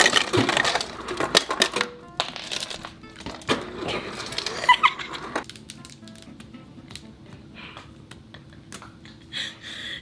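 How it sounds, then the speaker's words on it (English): Ice cubes clatter and rattle into a cup for a 24-ounce iced matcha, dense rapid clinks at first and then thinning out to sparse scattered knocks, close and fairly loud with no talking. "actually, I'm gonna fill this up completely with ice."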